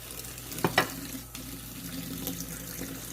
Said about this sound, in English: get your 2 oranges. And wash them out.